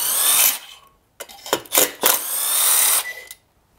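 Impact driver with a T27 Torx bit working the muffler fasteners on a Stihl MS441 chainsaw, loud whirring bursts broken by a few sharp rapid hammering pulses, close up and alone.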